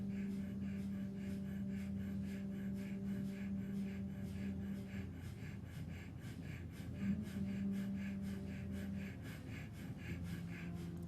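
Strong, rhythmic Kundalini yoga breathing, fast even breaths repeating steadily throughout, close and moderately quiet, with a low steady hum underneath.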